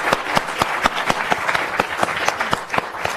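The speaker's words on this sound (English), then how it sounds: "I'd like to give you a big round of applause for your insights." An audience at a talk on Indonesia applauds, sparse, distinct claps from a modest crowd that keep up evenly throughout.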